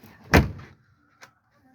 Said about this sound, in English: I'm just going to shut the door because it's a bit glary in here